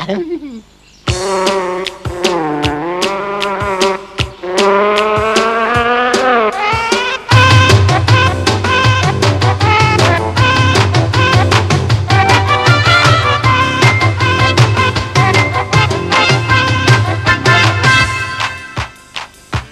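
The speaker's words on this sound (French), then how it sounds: "les moustiques qu'ils piquent ou qu'ils ne piquent pas sont toujours embêtants" A cartoon mosquito's buzzing, performed as a loud melodic, sung-sounding drone that rises and wavers, with a steady musical beat joining partway through and running to the end.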